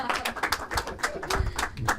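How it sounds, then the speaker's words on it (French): An audience at a neighbourhood community dialogue event claps in a steady patter of individual hand claps, moderately near, with voices murmuring underneath. "laisse les gens t'applaudir"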